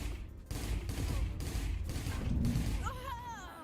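Video game gunfire plays out as a dense stretch of rapid shots and bursts that continues for a few seconds, followed by whistling, warbling game effects near the end.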